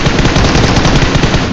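Gunfire in the mobile battle royale game BGMI: a loud, sustained burst of rapid automatic shots that rattles on without a break for the whole span, close and dominant, with no talking.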